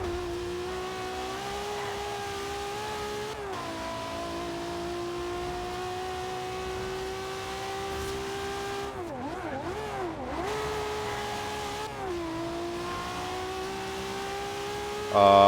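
A racing car engine in Forza Horizon 2 holds a steady, droning whine, with a brief dip and rise in pitch partway through as the car shifts or slows, continuous and without talk.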